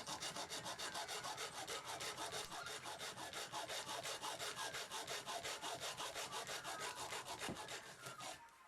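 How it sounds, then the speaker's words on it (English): A hacksaw cuts through a plastic oval toy lid in steady, rapid back-and-forth strokes, a continuous rhythmic rasping that stays loud and close for the whole stretch with no talking. "Using a hacksaw here to cut an oval lid in half."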